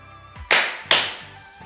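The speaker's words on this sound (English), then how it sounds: "can you clap your hands once?" Children clap their hands at a kids' gospel session, two loud sharp claps close together, each with a short fading tail, over faint background hum.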